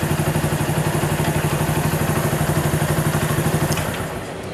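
A motorcycle engine idles with a steady, rapid, even thumping, then dies out toward the end as it shuts off, close by with no talk.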